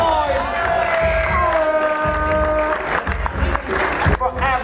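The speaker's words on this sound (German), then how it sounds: "Macht nochmal bitte einen großen Applaus für alle, die beim Top 16 mitgemacht haben." A crowd at a Top 16 gaming tournament claps and cheers loudly, with whoops and shouting layered over the applause and voices calling out throughout.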